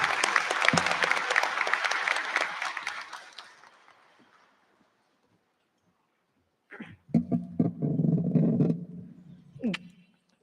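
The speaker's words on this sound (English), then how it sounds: "Please welcome all our guests this evening with a round of applause." Audience applause at a 2022 high school graduation ceremony, a dense burst of clapping that fades out over about four seconds, then a pause, followed by renewed clapping and crowd noise.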